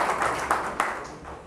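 A classroom audience claps together in a short, even burst of applause that fades slightly toward the end.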